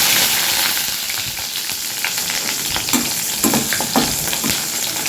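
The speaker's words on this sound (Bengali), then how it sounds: "বড়ি ভাজার পরে বেগুন ভেজে নেব।" Brinjal slices fry in mustard oil with a dense, continuous hiss and crackle, close and fairly loud, with a few soft scraping stirs near the end and no voices.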